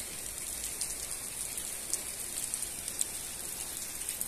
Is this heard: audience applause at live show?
no